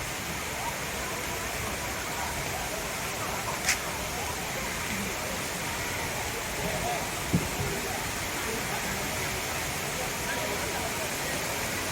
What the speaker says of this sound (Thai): มุมนี้มองน้ำตกโมก เหล็กไปก็สวยงามอีกแบบหนึ่งนะครับ